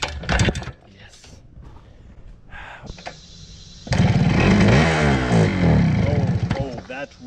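A 1974 Kawasaki G4 100 small motorcycle engine sputters briefly, then catches and idles with a loud, buzzing two-stroke putter close by for the last few seconds, with people talking over it.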